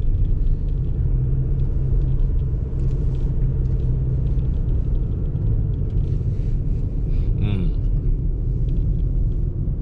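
A Subaru Forester STI Sport fitted with Pirelli studless tires drives through heavy snow. It gives a steady low engine and road rumble throughout, with faint background noise and a brief higher whine near the end.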